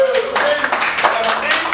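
A live audience applauds the show's technical staff in a short, dense burst of clapping with voices mixed in.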